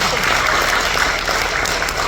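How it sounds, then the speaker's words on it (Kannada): An audience at a film trailer launch event applauds in a steady, dense wash of clapping that is loud and sustained throughout. "ಸೊ ಏನೋ ಸ್ವಲ್ಪ ಇಲ್ಲಿ ಚಪ್ಪಾಳೆ ಕಮ್ಮಿ ಕೇಳಿಸುತ್ತೆ"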